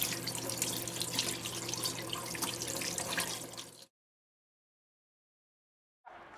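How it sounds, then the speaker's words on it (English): Tap water pours steadily down a sink drain in a close, even rushing hiss for several seconds, then stops abruptly into silence. "the tap water always goes down the drain"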